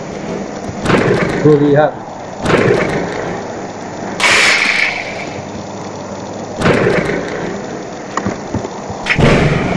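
Lightning and thunder striking a house in a natural-disaster video game, with loud cracking bursts and heavy thuds recurring every couple of seconds while a voice talks briefly over them.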